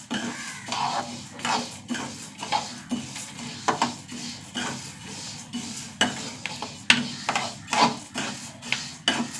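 Horse gram, washed and drained, dry-roasting in a pan with steady scraping and stirring clatter, repeated metallic spoon knocks against the pan rising above a faint background hiss, no talking.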